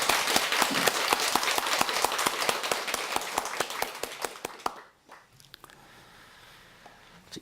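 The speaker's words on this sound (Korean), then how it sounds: "우리 박수로 환영할까요?" A hall of listeners at a Buddhist temple dharma talk claps together in a dense, loud burst of applause for about five seconds, then it abruptly drops to scattered, quieter claps.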